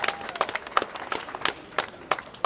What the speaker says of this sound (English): You all give yourselves a round of applause.